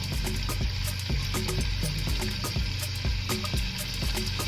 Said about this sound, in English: Go ahead and place your turkey wings in here. You're gonna fry them on each side.